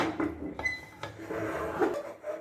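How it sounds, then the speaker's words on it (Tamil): A lid is set on a cooking pot of Ambur chicken biryani, giving a few quiet metallic clinks and scrapes close by in a kitchen. "மூடி போட்டுக்கோங்க."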